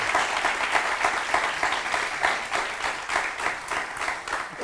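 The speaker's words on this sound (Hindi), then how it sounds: "एक बार जोरदार तालियों से स्वागत हो जाए।" A studio audience applauds loudly to welcome Raj Kundra and film director Shahnawaz Ali, with dense, sustained clapping throughout.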